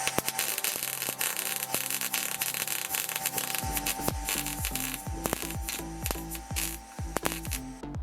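MIG welding the first weld on a 1965 GTO, a steady crackling, buzzing arc with bursts and pops as the wire feeds, close and moderately loud with no talking.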